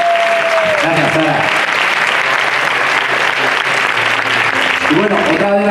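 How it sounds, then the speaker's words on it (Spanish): Steady, loud applause from a crowd, continuous throughout with a few voices faintly audible underneath. "Fuerte aplauso para Sara, por favor."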